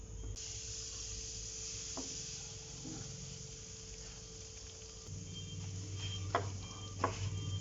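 Semolina roasting in desi ghee in a pan over a low-to-medium flame for rava ladoo, a steady quiet sizzle and hiss with occasional scraping stirs and a couple of sharp clinks near the end.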